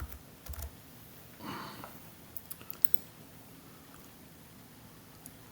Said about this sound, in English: So I'm going to type in Lego.